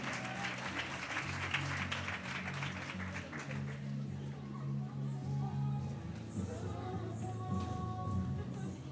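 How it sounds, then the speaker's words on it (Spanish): An audience at a school award ceremony applauds steadily, a dense clatter of many hands that swells early and fades toward the end, with a voice speaking over it. "Un aplauso para ella también."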